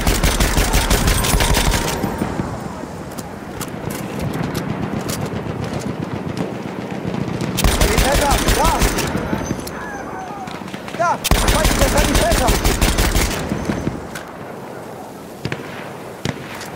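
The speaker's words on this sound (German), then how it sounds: "Maschinengewehr gesichtet!" Machine gun fire rattles in the World War I shooter Battlefield 1, with loud rapid bursts coming in three long volleys separated by quieter stretches of distant shots and battlefield noise.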